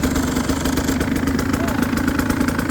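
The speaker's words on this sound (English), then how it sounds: "Turn on your bike." A small bike engine runs at a steady, rough idle close by, a continuous loud putter throughout, while people talk over it.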